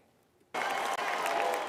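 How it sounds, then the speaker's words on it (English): Energized crowd applauding at the Republican National Convention in Milwaukee, a sudden dense burst of clapping that swells in and holds loud and steady with a brief dip partway through. "An energized crowd at the Republican National Convention celebrating the party's newly announced ticket"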